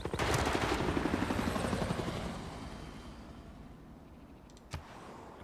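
Helicopter in the Civilization VI strategy game, a loud rotor chop with rhythmic thumping that fades steadily over several seconds, followed by a brief sharp knock near the end.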